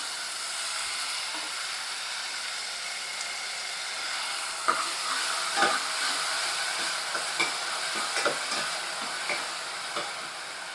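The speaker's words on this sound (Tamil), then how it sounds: "ஒரு சின்ன பெரிய வெங்காயம் விழுது அரைச்சி வச்சுருக்கேன் அதை ஆட் பண்ணிக்கிறேன்" Ground onion paste sizzles in a hot pan while cooking Madurai chicken curry, a steady bright frying hiss with intermittent scraping stirs growing more frequent in the second half, close and alone.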